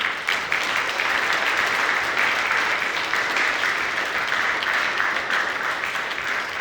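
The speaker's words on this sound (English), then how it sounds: "let me hear a round of applause just for you guys for putting in the work" Steady, dense applause from a large crowd at a boxing weigh-in at the Red Mouse, loud and continuous throughout with no pauses.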